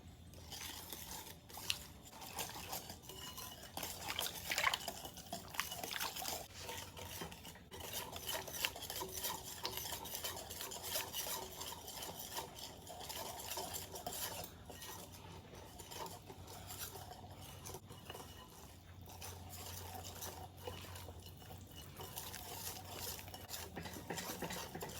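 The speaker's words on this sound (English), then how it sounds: "Continue whisking until everything's well combined." A whisk stirs flour into a mimosa quick bread batter in a bowl, a steady scraping, rubbing rhythm that runs close and continuous throughout with no talking.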